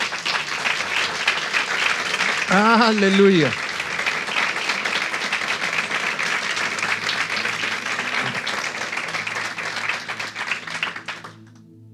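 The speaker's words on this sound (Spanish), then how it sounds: "Denle un hermoso aplauso al Señor." A church congregation bursts into a long, steady round of applause that fills the whole stretch, with a single voice calling out over it near the start before the clapping fades away at the end.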